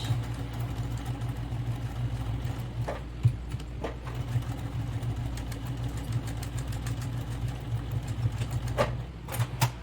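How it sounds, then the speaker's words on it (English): A sewing machine back stitches the corners of a fabric bag, a steady close mechanical hum with fast repetitive needle chatter and a few sharper clicks, running continuously with no talk. "We're here in the sewing machine, and I'm going to start to sew. Back stitch."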